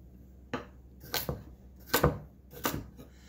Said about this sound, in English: the safest way to chop when you're learning is to sort of rock, keeping the knife blade in contact with the cutting surface